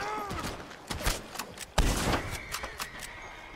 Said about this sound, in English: This sounds like a really cool rifle.